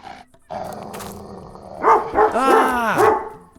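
A dog in the Zak McKracken adventure game barks and growls aggressively, a short bark followed by rising, snarling growls and yips, loud and close.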